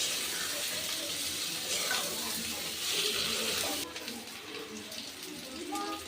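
Fried onions cooked down with spices, potato and eggplant in a pan, giving a steady broadband sizzle throughout, close and fairly loud, easing slightly toward the end.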